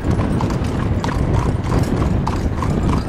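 Steady hooves of a Connemara mare pair pulling a carriage clip-clopping on a hard road surface, loud and close, with a constant rumble of movement throughout.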